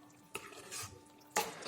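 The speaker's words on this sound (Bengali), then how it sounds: "মিনিট 2 পরে খুব ভালো করে নাড়াচাড়া করে নিচ্ছি আমি একটু" A spoon stirs small potatoes through spiced masala in a pan, making two distinct scraping clinks about a second apart with soft, faint shuffling between them and no talk.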